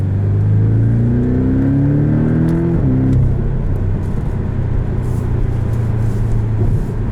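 A 2019 Porsche 718 Boxster S with PDK gearbox revs hard toward redline from the driver's seat, a loud rising engine note that climbs, shifts near three seconds, then holds a steady drone through the rest.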